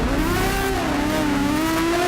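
Aston Martin Vulcan race car engine revs hard and accelerates, a loud, close, continuous roar with rising and falling pitch sweeps, alone without any talk.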